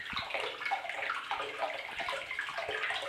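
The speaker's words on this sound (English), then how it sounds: "now with some hot water, fill it up to about when you can fit them" Warm tap water pours steadily into a container for washing masks, a close, continuous splashing and gurgling rush with no talk over it.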